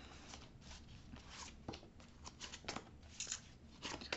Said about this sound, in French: Alors, on va tirer 3 cartes.